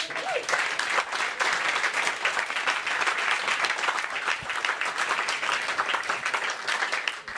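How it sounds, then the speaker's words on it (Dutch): Sustained applause from an audience, a dense steady clatter of many hands clapping that holds at an even level throughout. "Dames en heren, applaus."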